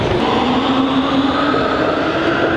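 Warsaw metro train rumbling loudly through a station, a steady close roar with a faint rising whine and no talk.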